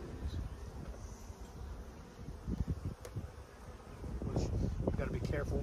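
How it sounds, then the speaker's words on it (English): Honey bees buzzing thickly around an open hive during a beekeeping inspection, a steady close hum with wind buffeting and handling bumps, a voice briefly audible in the background. "A lot of bees."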